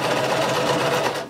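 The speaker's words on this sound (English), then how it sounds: "Lower your needle, begin sewing, back stitch" Close, continuous whirring of a sewing machine running a 5/8-inch seam along the center front of a front-slit shirt, steady and loud throughout the short burst.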